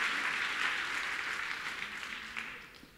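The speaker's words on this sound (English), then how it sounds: "Let us clap for Jesus." Applause from a church congregation, a broad steady wash of many hands clapping that stays loud throughout and eases off slightly near the end.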